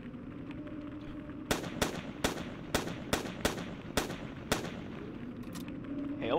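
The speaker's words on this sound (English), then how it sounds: "Hail of gunfire." Gunfire in the video game Outbreak: The New Nightmare: eight sharp shots in a quick, fairly even volley over a low background hum, with faint talk beneath.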